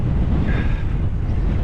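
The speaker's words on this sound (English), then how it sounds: "it's so bloody windy" Strong wind buffets the microphone on a bikepacking trip through Scotland's Dumfries & Galloway, making a loud, close, low roar with a steady rumble that drowns out everything else.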